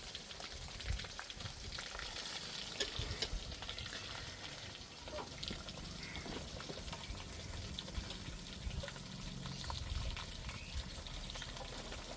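Cut chicken pieces hit a pan of cooked ginger garlic paste and masala, frying with a dense, steady sizzle and crackle that stays even and close for the whole stretch.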